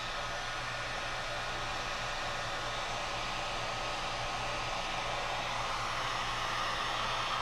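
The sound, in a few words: heating vinyl fork wrap to smooth it out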